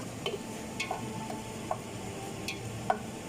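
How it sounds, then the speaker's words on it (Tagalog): Onions frying in a pan until golden brown give a low, steady sizzle, with a few light scrapes and taps of a utensil against the pan at irregular intervals. "pina-fry na natin ang onion. Hanggang magiging brown lang naman siya."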